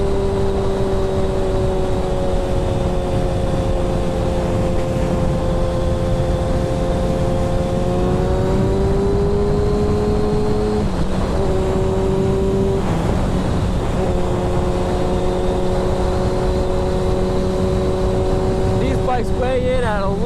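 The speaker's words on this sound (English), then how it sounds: "you really can't ride one of these bikes legally and touch any part of the power band" A motorcycle engine, a bike weighing a little over 400 pounds, revs loudly and steadily through its power band, the pitch climbing and dipping between shifts, close and continuous throughout.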